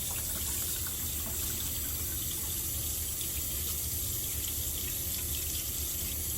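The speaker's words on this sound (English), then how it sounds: "You can modify the flow rate to your own choice and adjust temperature until the water is warm." Warm water runs steadily from a sink tap while hands and wrists are wetted for hand hygiene, a continuous close hiss and splash with no voices.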